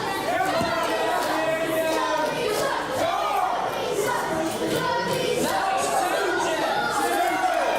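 A crowd at a live wrestling show in Market Rasen chants in a steady rhythmic roar, dense and continuous, with a commentator talking over it.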